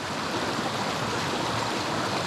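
A small stream with little waterfalls rushes steadily, a dense broadband wash of flowing water, close and constant throughout with no voices.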